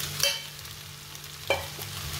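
Sago sizzles in a hot pan over high flame while a spoon scrapes and stirs twice, sharp clinks over a steady frying hiss.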